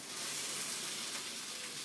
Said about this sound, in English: I can hear my beef sizzling away